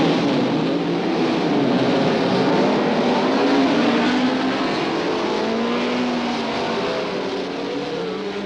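Formula One Grand Prix cars pulling away at Mosport during the 1967 Canadian Grand Prix, several engines revving and whining at once in loud, overlapping rising and falling tones that slowly fade.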